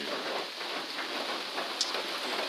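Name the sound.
rain falling at a trail shelter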